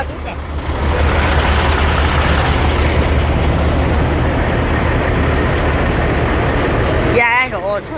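An old Ford LTL 9000 cabover truck engine rumbles as a steady, loud, close drone, with a brief squeal and shift at the end.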